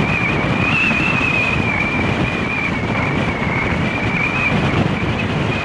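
Strong headwind buffets the microphone in a steady roar while cycling on Lanzarote, with a faint whine running underneath and no voices.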